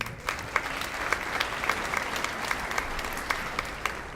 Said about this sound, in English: Once again, round of applause for the Brentwood baseball team and girls tennis team.